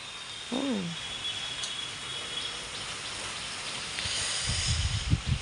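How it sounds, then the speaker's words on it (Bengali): Steady rain falls outdoors after a long afternoon of continuous showers, a soft broad hiss with a bird call early on and a few louder knocks near the end. "বৃষ্টি পড়ছে, চলো"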